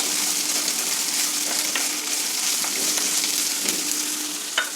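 Onions sizzle and crackle steadily on a high flame, a dense continuous frying hiss with occasional sharper pops, close and alone with no talk.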